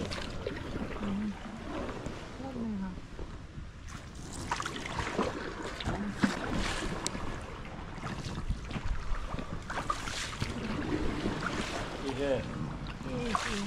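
Boat ride through Martvili Canyon in Georgia, with a soft steady wash of water and wind noise and faint voices talking quietly in the background.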